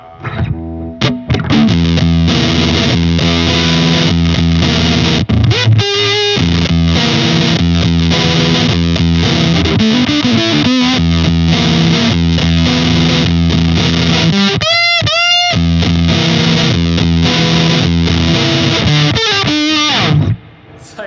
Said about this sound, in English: this is absolutely the best sounding mid-rangey fuzz pedal I've heard